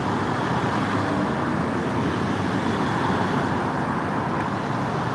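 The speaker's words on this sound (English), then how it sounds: "But this is a real high traffic area." Steady traffic rumble fills a busy, high-traffic street, a continuous wash of passing cars and engines with no break and no voices.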